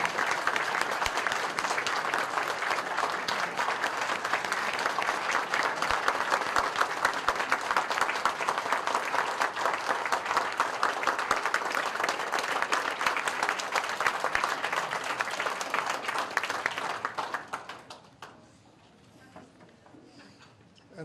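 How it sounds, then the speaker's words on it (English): A concert audience gives the Cincinnati Civic Orchestra a sustained, loud round of applause at an outdoor summer concert, steady dense clapping that fades out near the end. "I want to give them all another round of applause"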